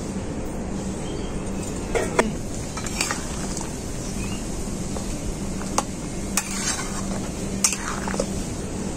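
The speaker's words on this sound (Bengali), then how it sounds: "এখন আমি ভেজে রাখা আলু আর পুঁই ডাঁটাগুলো দিয়ে দেবো।" Fried potatoes and Malabar spinach stems go into a simmering mutton curry: a few sharp spoon-against-pot clinks and soft stirring scrapes over a low, steady kitchen hum, no talking.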